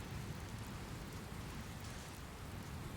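Steady scripted rain in the video game Dragon Quest Builders 2, a dense, even hiss of falling water with a low rumble underneath, continuous and unbroken with no voices.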